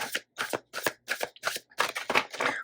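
Tarot cards being shuffled by hand in a series of quick riffling bursts with short pauses between them, close and fairly clear, with no talking over it.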